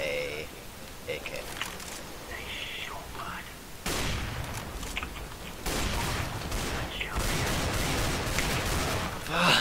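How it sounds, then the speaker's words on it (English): AK rifle fire in the CS:GO video game comes as sharp, repeated bursts of shots, growing denser and louder toward the end, mixed with a player's talk. "Bot Victor just headshot me with a AK"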